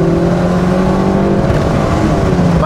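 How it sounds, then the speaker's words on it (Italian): An Opel Corsa GSi engine revs hard under acceleration, a loud, close, sustained roar that holds steady and slightly climbs in pitch, with no talking. "Allora, un'acceleratina, mamma mia se gira sto motore, gira benissimo"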